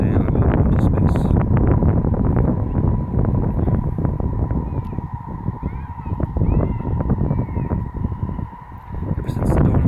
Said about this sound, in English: Now it's windy as fuck, Grace, but I don't care anymore.